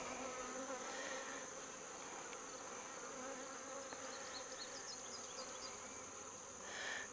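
Honeybees in an open hive hum in a continuous, close buzz that stays fairly even throughout, with no voices.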